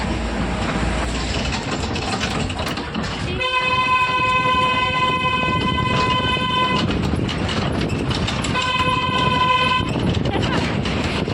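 A moving train rumbles steadily on the rails while its horn sounds twice in long, loud blasts, with faint talk from passengers aboard.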